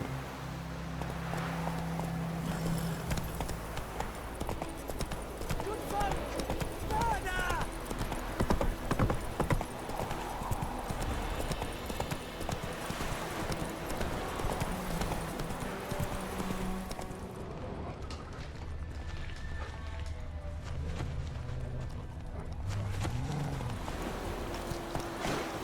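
In The Witcher 3, the horse Roach runs with a quick, steady clip-clop of hooves, close and persistent, under game ambience, with the gait slowing and a brief snort near the end.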